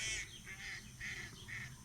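Ducks quack and honk in a quick series of nasal calls, about four bursts in a row, fairly close and clear, by the Santa Eulalia river in Ibiza.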